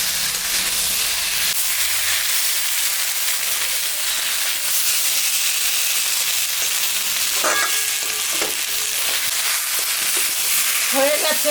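Spice paste frying in a pan for a mrigal fish curry gives a loud continuous sizzle and hiss, with occasional scraping stirs and faint clinks.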